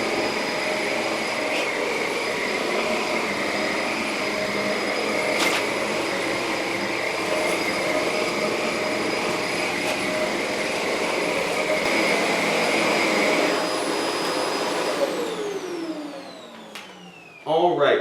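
Bissell DeepClean Lift-Off pet carpet cleaner running steadily and loudly with a whining motor hum, then winding down near the end.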